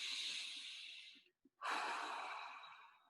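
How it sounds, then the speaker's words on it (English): Slow, deep breathing close to the mic, with one long breath filling the belly followed by a full, airy exhale after a brief pause. "Really filling up the belly fully and exhaling fully."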